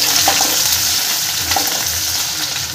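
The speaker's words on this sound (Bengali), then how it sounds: "পেঁয়াজটা বন্ধুরা একটু ভালো লাল লাল করে একটু ভেজে নেব।" Onion frying in mustard oil in a wok gives a steady, loud sizzle throughout, with occasional soft scraping from stirring and no voices.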